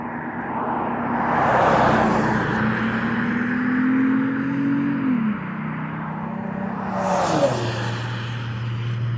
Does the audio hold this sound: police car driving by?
yes